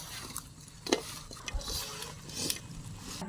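Mango pickle pieces being stirred together with oil and garlic paste, giving soft, wet scraping and squelching sounds with a few light clicks against the vessel, moderately close and quiet, with no talking.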